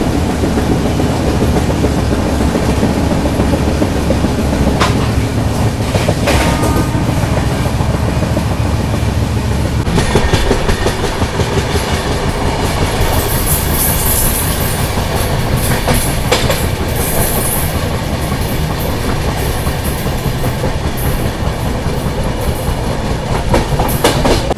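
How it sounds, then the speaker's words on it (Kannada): The 16335 Gandhidham–Nagercoil weekly express thunders past close by on coastal Karnataka tracks, a loud continuous rumble with rhythmic clickety-clack of wheels over rail joints across the whole passage. "16335 ಗಾಂಧಿಧಾಮ್ ನಾಗರ್ಕೋಯಿಲ್ ವೀಕ್ಲಿ ಎಕ್ಸ್ಪ್ರೆಸ್ ಅದಿದ್ದು"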